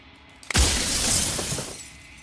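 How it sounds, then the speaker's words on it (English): A mirror in the Slay the Princess video game shatters in one loud, sudden crash, followed by a long ringing spray of glass fragments that slowly fades. "I forgot how loud the mirror shatter is."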